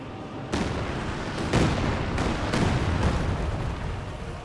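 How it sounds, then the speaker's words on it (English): Panzerwerfer rocket barrage raining down in Company of Heroes 2, a run of heavy booming impacts landing about once a second over a steady rumbling battlefield din. "Panzerwerfer barrage rainings, I think, around here."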